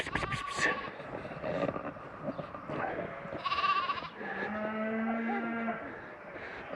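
Sheep and lambs calling while being herded to fresh pasture, several overlapping bleats and moo-like cries from the flock at varying distances, alone without talk.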